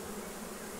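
Honey bees buzz steadily around hive frames during a hive inspection, a dense, continuous insect hum held close and fairly quiet for the whole moment.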